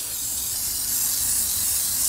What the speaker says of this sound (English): I spray everything.